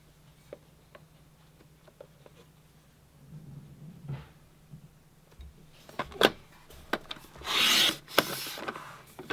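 Stacked paper pieces are cut with scattered scraping and rubbing strokes, quiet at first and then a louder, sustained rasp near the end.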